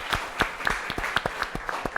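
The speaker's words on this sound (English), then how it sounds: "these 2 gentlemen that are willing to come in and do this with us and for us deserve a special round of applause" Sparse rhythmic clapping at a charity chef showdown event, with individual claps spaced at regular intervals and moderately close, as though from a small group.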